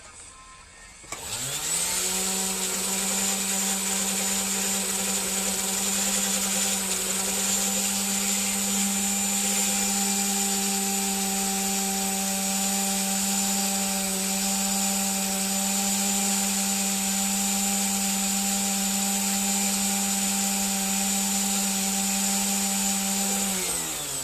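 A fancy Dremel rotary tool spins up and runs steadily for cleaning a soldering iron, a loud continuous high-pitched whine with a sustained motor hum, holding constant pitch throughout after a brief start.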